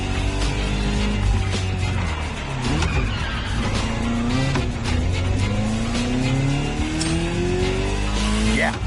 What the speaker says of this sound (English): A Ferrari 308 GTS?